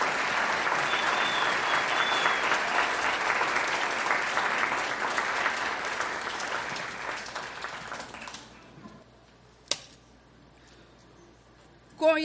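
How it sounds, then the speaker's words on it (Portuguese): Sustained audience applause at an academy of Portuguese language award ceremony, a dense steady clapping crowd for about eight seconds that then stops abruptly, leaving quiet room tone with a couple of brief thumps. "Aplaudamos a professora Elvira."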